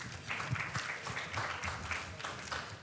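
Applause from a conference audience at an energy panel event, an even, continuous patter of clapping heard at a moderate distance and fairly quiet, with no voices on top.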